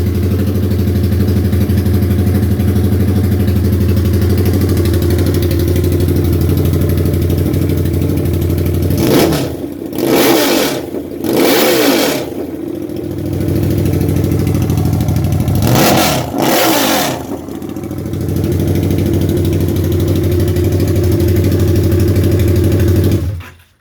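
A 2006 Harley-Davidson V-Rod idles loud and close with a steady, throbbing engine note, broken by a few short throttle blips: three quick revs near the middle and two more later, each settling back to idle.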